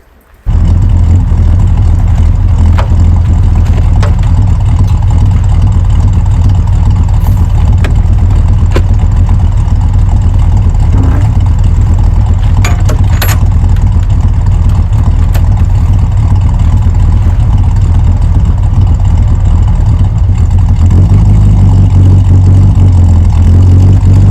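A Land Rover Series 3 engine turns over and settles into a loud, steady, rumbling idle close by, running without a break for over twenty seconds, with a slight shift in tone near the end.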